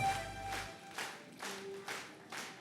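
Congregation at a church service clapping for a woman, several bursts of rhythmic applause rising and falling, fairly close, with faint tones lingering underneath.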